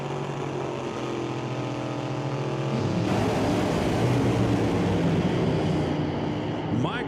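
NHRA drag racing cars at a Northwest National Open Series event, one revving high while the other idles, then both launching from the starting line in a loud, continuous engine roar that swells as they leave.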